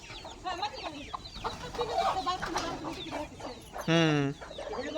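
Farm hens clucking nearby in a busy run of short, repeated calls, ending in one louder, drawn-out squawk, with faint talk in the background.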